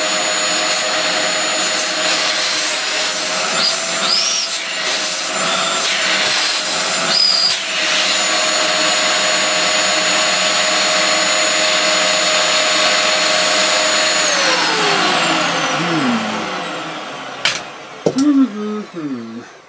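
A Dyson DC04 upright vacuum cleaner with a cutting-out fault drones steadily and loudly, then winds down and cuts out near the end, followed by a few brief knocks.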